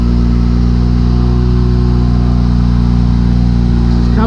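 A 1988 Mazda RX7 FC3S rotary engine idles steadily, close and loud, with an even, buzzy drone that holds without revving for the whole stretch.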